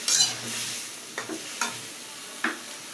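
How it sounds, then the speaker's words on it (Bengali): Chopped tomato being stirred into a frying rohu fish and potato curry, with a soft sizzle under a few sharp spoon scrapes and clacks against the pan, close and fairly quiet. "আর এখানে কেটে রাখা যে টমেটো এটাও দিয়ে দিব, দিয়ে নাড়াচাড়া ভালো করে করে একটু কষানো হয়ে গেলেই"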